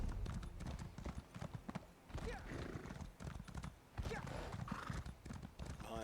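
Horse hooves clip-clop at a gallop in the video game Elder Scrolls Online: Greymoor, with neighs and whinnies breaking through the steady rhythmic hoofbeats, loud and close, while the rider's voice comes and goes over them.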